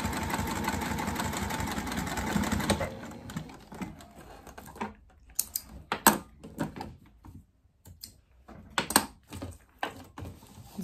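A sewing machine top stitching along the cork side of a fabric waist pack, a fast steady mechanical whirr for the first few seconds, then quieter handling clicks and pauses, close by with no voices.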